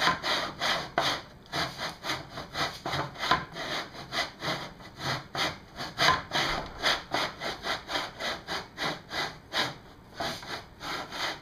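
A hand saw cuts through quarter-inch wood to make toy swords, giving a steady back-and-forth rasp of quick, even strokes at close range throughout, with no talking.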